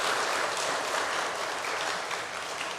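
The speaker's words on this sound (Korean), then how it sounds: "박수 한번 쳐주십시오" A church congregation claps steadily to welcome a new pastor, a dense wash of applause at moderate volume that fades slightly toward the end.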